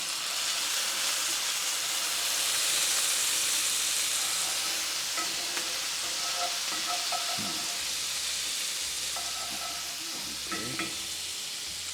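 Minced garlic frying in a pan for vegetable egg rolls, giving a loud, continuous hiss of sizzling oil with a few faint clinks of a utensil near the end; no voices.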